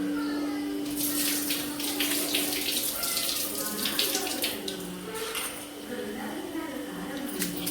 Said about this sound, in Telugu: రైస్ అయితే బిర్యానీకి నానబెట్టుకున్నాను వన్ టైం అయితే కడుగుతున్నాను